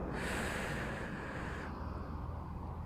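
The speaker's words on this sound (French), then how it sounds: "tu appuies dessus et tu inspires sur 5 secondes" A slow, deep inhalation taken as part of a breathing exercise for calming anxiety: a close, airy, rushing breath held for a count, loud and hissy at first and easing off after about a second and a half, with no talk.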